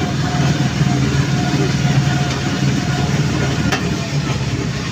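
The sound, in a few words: gentor racing vehicle engine at full speed, loaded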